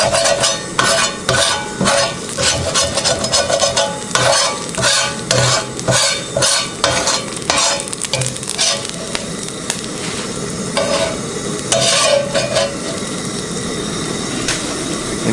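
A metal spatula scrapes repeatedly across a Biji barbecue hotplate while food sizzles, rhythmic loud scraping strokes over a constant frying hiss.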